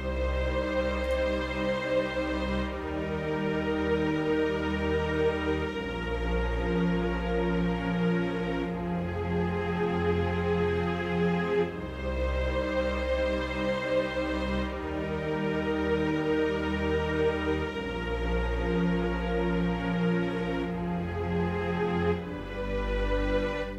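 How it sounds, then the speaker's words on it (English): A full orchestral string section from a Spitfire Audio sample library plays sustained, swelling chords that shift every few seconds, rich and continuous with no other instruments or voices. "The strings alone sound like this."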